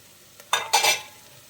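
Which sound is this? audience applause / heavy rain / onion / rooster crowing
onion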